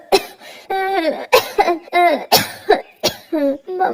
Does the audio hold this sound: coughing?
yes